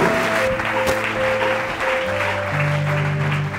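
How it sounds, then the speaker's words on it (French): A church congregation at a night vigil applauds steadily as one continuous, dense wash of clapping. Sustained musical tones play beneath it throughout. "Acclamons le Seigneur pour la vie du frère Paul."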